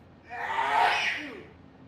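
A single close sneeze with a short sharp intake and a burst of breath, standing alone in a quiet room.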